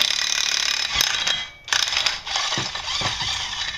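A puller is fitted into the transmission of a Can-Am Outlander ATV, giving close metallic ratcheting clicks, scraping and clanking parts over a constant hiss for a few seconds, with no talking.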